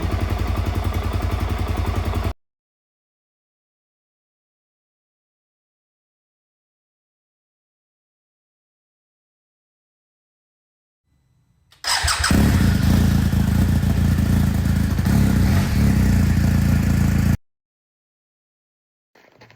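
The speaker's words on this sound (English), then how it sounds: "blip the throttle a little bit and it wants to go. So there you go. Auto clutch. Test ride time." Suzuki DRZ400S dual-sport motorcycle fitted with a Rekluse auto clutch, loud and close, with a short burst of engine noise that cuts out, a long silent gap, then about five seconds of sustained revving and riding before stopping.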